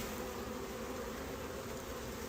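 Honeybees buzz continuously around a foundationless wild-comb hive frame during a February inspection, a dense, steady drone filling the air at close range with no pauses.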